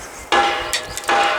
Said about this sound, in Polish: a to co siedzi mocniej to przy użyciu młotka